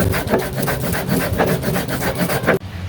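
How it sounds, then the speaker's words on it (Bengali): Spice paste ground by hand on a flat grinding stone, a rapid rhythmic series of rough scraping strokes, close and loud, stopping abruptly near the end. "মশলাটা কিন্তু সুন্দরভাবে বাটতে হবে,"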